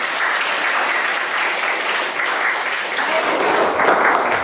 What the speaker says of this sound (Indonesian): Tepuk tangan untuk Zara.